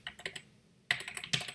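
Computer keyboard keys clatter while Java code is typed, two quick bursts of close, crisp keystrokes separated by a short pause.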